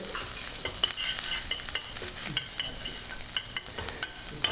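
Garlic and ginger fried in hot oil in a pan, a steady close sizzle broken by regular scraping and tapping stirs of a utensil against the pan, with no talking.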